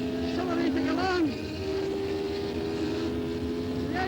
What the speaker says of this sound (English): Accelerating along.